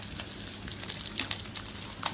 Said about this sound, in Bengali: এদিকে মাছ ভাজাটা উল্টিয়ে দিলাম